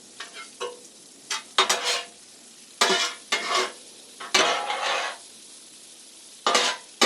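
Peppers and eggs being mixed on a flat-top griddle, bursts of spatula scraping and clattering on metal separated by short pauses, close and fairly loud.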